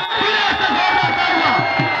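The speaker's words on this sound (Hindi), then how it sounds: "तालियां तालियां ओ जोरदार तालियां" A loud, close crowd at a Punjabi kabaddi match at Gondal Stadium roars and whoops in a continuous wall of cheering voices, with rising, wavering shouts sweeping through the noise.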